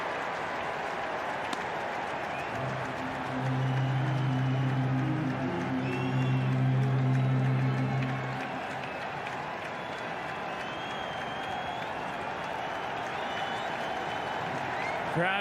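A baseball stadium crowd at a Brewers–Yankees Opening Day game rises and roars, swelling from a distant murmur to a broad cheer for several seconds before easing back into steady ballpark din.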